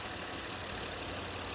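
A 2010 Honda Pilot EX all-wheel-drive SUV idling on a dealer lot, a steady low engine rumble with broadband hum running continuously and evenly, with no talk.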